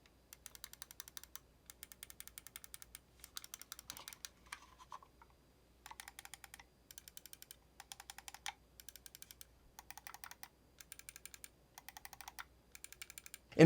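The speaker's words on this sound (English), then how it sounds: "our side buttons do sound a little bit different with the honeycomb version." Side buttons of a Pwnage Symm 2 wireless gaming mouse, honeycomb version, clicked in quick close-up bursts of sharp plastic clicks, about a dozen short clusters with brief pauses between, no talk.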